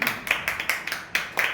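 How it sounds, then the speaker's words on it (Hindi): Handful of people in a church congregation clapping in a brief, uneven burst of close hand claps. "उनके लिए जोरदार तालियां बजना चाहिए"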